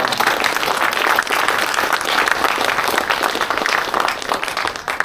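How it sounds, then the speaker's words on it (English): Audience applause at a cadet change of command ceremony, a dense, steady crowd clapping loudly and evenly for the full stretch, thinning slightly near the end. "One more round of applause for everybody."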